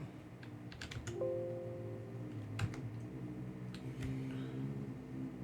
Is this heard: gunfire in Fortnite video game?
no